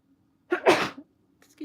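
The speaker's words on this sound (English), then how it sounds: "I have to sneeze." One close sneeze with a short inhaled lead-in and a breathy burst, followed by a faint vocal sound near the end.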